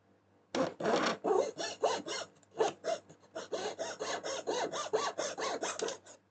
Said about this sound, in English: And there we go, that's all sawn off.